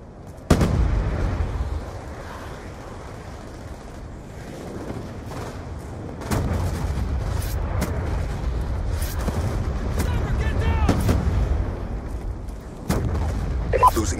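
A drone swarm killstreak in Call of Duty: Black Ops 2 sets off repeated booming explosions and bursts of gunfire over a continuous rumbling battle din, with scattered in-game voice callouts.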